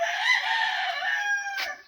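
A broiler chicken crows and clucks in a steady, fairly close call that fades toward the end.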